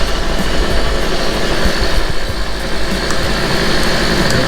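A Yamaha Zuma 50F scooter with a swapped-in two-stroke engine idles at a steady, continuous drone, close and fairly loud, with no talking.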